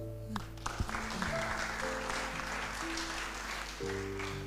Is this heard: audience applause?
yes